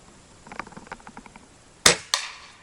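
Two sharp gunshots ring out outdoors at a can set 50 meters away, loud cracks with quick decaying tails, following a stretch of faint rhythmic clicking and rustling.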